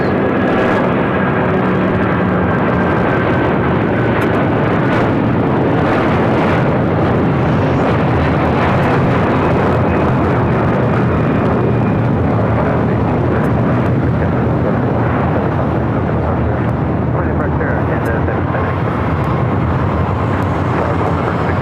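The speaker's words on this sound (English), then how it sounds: "We do have that Air Canada A330-300 now taking off in the Star Alliance livery" An Air Canada Airbus A330-300 takes off at LAX, a loud, sustained jet-engine roar filling the whole stretch without pause or voices.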